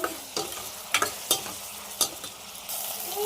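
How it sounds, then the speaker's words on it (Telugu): Tomato and ginger chutney frying in a pan while being stirred, a constant sizzle broken by several sharp scraping stirs at an uneven pace, close and alone. "మొత్తం బాగా వేగేంత వరకు, ఉడికేంత వరకు కలుపు వేసుకుంటూ ఉండాలి."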